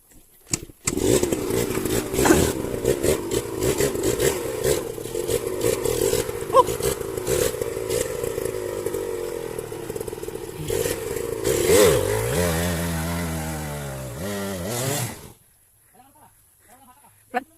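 A motorcycle engine revs hard and steadily for several seconds on a mountain trail, its wheel spinning on a flat tire without traction, then sputters and winds down before cutting out, with a scraping clatter underneath.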